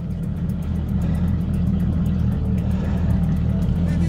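A boat engine idling while it warms up after a cold start in winter, a low steady rumble with a fast, even ticking pulse running through it, close and continuous without any voices.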